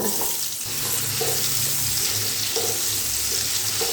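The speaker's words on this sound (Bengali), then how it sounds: "এবারে গ্যাসের ফ্লেমটা মিডিয়ামে রেখে এর মধ্যে কিছু আলু দিয়ে ভেজে নেব" Potato pieces fry in oil in a kadai over medium gas flame for a fish roe dish, a continuous close sizzle and bubbling with occasional stirring clatter, no voices.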